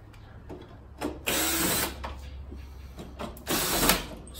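A power screwdriver removes screws around the headlight and grille of a Datsun 620 pickup in two close whirring bursts, with light handling clicks in between and a low hum underneath.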